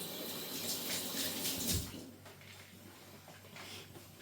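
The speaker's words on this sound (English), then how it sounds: "I'm just going to wash my hands." Hands being washed under a running kitchen tap, a steady rushing splash of water close by that fades to a quieter trickle partway through.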